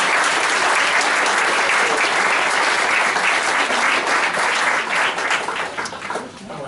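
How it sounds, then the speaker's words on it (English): Board of trustees members applaud a committee at a meeting, loud sustained clapping from a room full of people that fades toward the end. "Let's have a round of applause for that committee."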